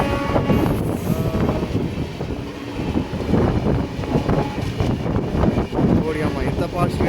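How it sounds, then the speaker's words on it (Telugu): A train passes at Vijayawada station, a loud rumbling roar with rhythmic clatter and surging wheel noise running the whole time, close by. "ట్రైన్ వస్తుంది, చూద్దాం ఇది ఏ ట్రైన్."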